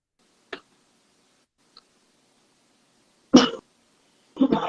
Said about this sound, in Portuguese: Hoje vai ser aquela tossição.